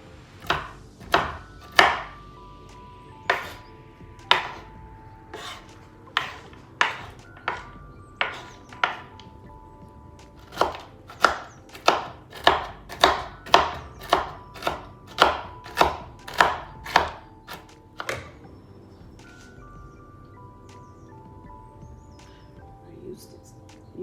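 Walnuts chopped with a knife on a chopping board for an apple walnut cake: a long run of crisp, close knocks, irregular at first and then steady and rapid, fading near the end with a quiet room behind.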